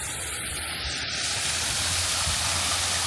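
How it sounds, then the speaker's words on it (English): Water pouring off rocks in a desert waterfall near Fresno, a steady, loud, broadband rushing roar that stays constant throughout. "There's like a waterfall coming up here, coming off of the rocks."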